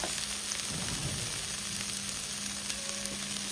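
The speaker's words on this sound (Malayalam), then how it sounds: "ഇനി നമുക്ക് ചിക്കൻ്റെ ആ സ്റ്റോക്ക് അങ്ങ് ഒഴിച്ചു കൊടുക്കാം" Chicken stock poured into a hot frying pan for a soup, giving a steady, even sizzle with a faint stirring texture, moderately loud and continuous.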